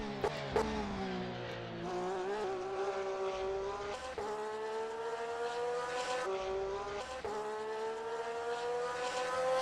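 A Porsche GT3 race car lapping Imola in a sim racing game, its engine note rising through the gears and dropping at each shift, loud and steady across several upshifts.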